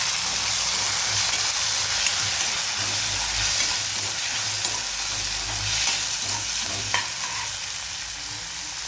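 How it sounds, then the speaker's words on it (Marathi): Garlic, ginger and cashews sautéing in a pan for a dhaba-style mixed vegetable dish, a steady loud sizzle with stirring scrapes throughout, close up. "लसण आणि आलं घेतलं होतं ते आपण याच्यामध्ये घालून घेणार आहोत याला थोडंसं परतून घेणार आहोत"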